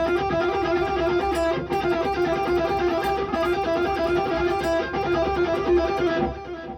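Electric guitar plays a fast alternate picking exercise, a dense, continuous stream of evenly picked notes, close and steady with no talk.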